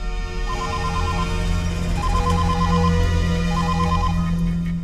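A telephone rings in short trilling bursts, three rings in a row, over a steady low hum of music or room noise.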